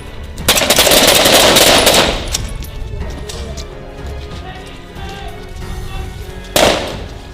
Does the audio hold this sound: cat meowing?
no